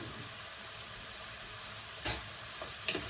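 Ground beef with chili powder sizzles steadily in a pan as it is stirred, with a continuous frying hiss and a couple of soft scraping clicks from the utensil. No one speaks.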